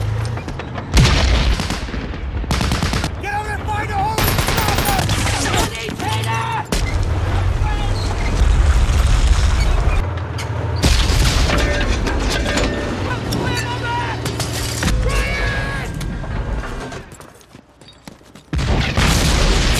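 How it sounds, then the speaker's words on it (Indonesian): Loud battle noise from the World War II film Saving Private Ryan, with repeated booming grenade explosions and bursts of gunfire, dense and chaotic, mixed with shouting voices and dramatic sound effects. "Granat meledak, peluru berterbangan dan rumah-rumah runtuh."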